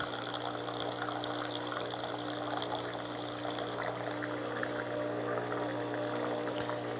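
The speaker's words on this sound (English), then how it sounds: "the machine will add water to my Americano" An Ascaso Uno espresso machine dispenses hot water into an Americano, giving a steady, close pouring and trickling rush with a low mechanical hum underneath that runs unbroken throughout.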